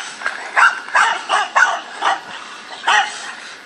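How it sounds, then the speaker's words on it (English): Two dogs bark repeatedly in a yard, sharp close yaps and woofs coming in an irregular series of bursts, loud and alone without talk. "How many dogs do you see?"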